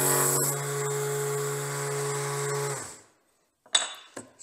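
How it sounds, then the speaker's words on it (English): A benchtop sander on a Woodpeckers Sandstand tilting base runs with a steady tonal whine, then spins down and stops around three seconds, followed by a couple of brief knocks. "And you can start sanding and have a straight edge."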